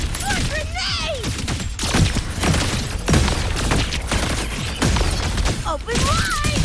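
Grenade explosions and gunfire in a frantic combat wave of Wuthering Waves, the Cyberpunk Edgerunners collab event, with repeated booms and crashes layered over dense game effects, music and character voice lines.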